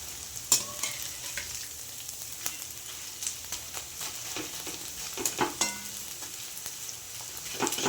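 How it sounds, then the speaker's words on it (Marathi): Edible gum (dink) frying in hot ghee, a soft continuous sizzle broken by sharp crackles and pops as pieces hit the fat and are stirred, no voices. "आता त्यामध्ये थोडा थोडा करून डिंक टाकायचा आहे।"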